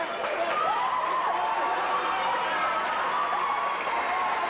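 Home fans at a 1986 high school basketball quarterfinal give a player a warm round of applause as he leaves the game; a sustained, even roar of clapping and crowd noise with a commentator talking over it.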